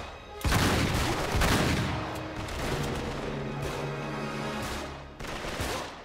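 Bursts of gunfire in Uncharted 3: Drake's Deception, sharp volleys and rapid shots at close range, loud at first and then continuing in scattered rattling exchanges.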